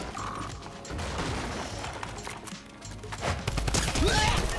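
Gunfire from a weapon in Fortnite Chapter 2 Remix: a steady clattering, mechanical rattle of rapid shots that grows denser and louder toward the end.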